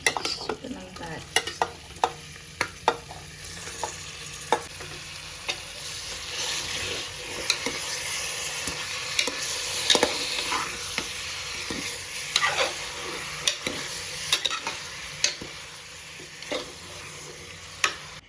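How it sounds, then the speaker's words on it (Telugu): Chicken pieces sizzle steadily in a hot pan while a spoon stirs them, scraping and clinking in scattered sharp taps over a continuous frying hiss. "సో చికెన్ అనేది కొంచెంసేపు ఫ్రై చేసిన తర్వాత"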